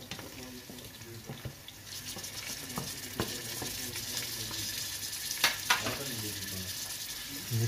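Tomatoes and green chillies fry in oil for a home-style mixed vegetable dish, giving a steady close sizzle. Occasional stirring scrapes and clicks cut through the hiss for the whole stretch.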